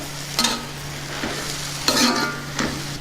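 Spinach tomato curry stirred in a pan, with a soft sizzle and a few brief scraping strokes of the spoon, close and moderate.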